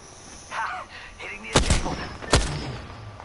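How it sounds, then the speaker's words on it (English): Two loud, sharp gunshot blasts from a video game ring out about a second apart, each with a brief booming tail, following quieter game sounds, with no talking. "Shot fired, and they're hitting me."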